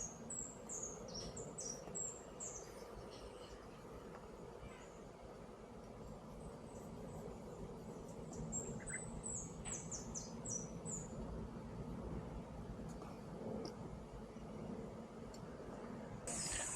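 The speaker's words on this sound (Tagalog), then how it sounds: "Makinig muna tayo ng mga huni ng ibon." Birds chirp and tweet in scattered bursts of quick high calls at a riverside campsite, moderately distant over a steady broadband background rush of water and ambient noise.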